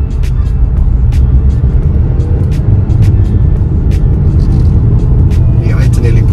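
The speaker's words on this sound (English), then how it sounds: "Yeah, I had to nearly push the throttle all the way down." A 2021 Haval H6 SUV set to its economy throttle mode pulls away slowly from a stop with the throttle pressed nearly to the floor, giving a steady, loud low cabin rumble throughout, with brief faint clicks above it.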